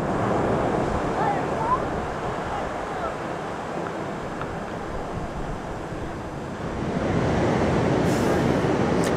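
Atlantic Ocean surf and gusting wind on the wild west coast of County Mayo, a loud continuous roar with buffeting on the microphone that swells again toward the end.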